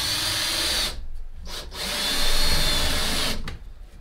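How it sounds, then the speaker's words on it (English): A power drill drives screws into wall studs for wooden storage shelving. It whines loudly in two long bursts separated by short pauses, close up and with no talking. "I'm gonna keep screwing these into the studs."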